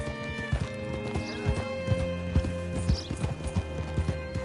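Horse hooves clip-clop in an irregular steady rhythm, close and clear, with a faint whinny and a low background hum, as a horse is brought up to a hitching spot in a Western setting.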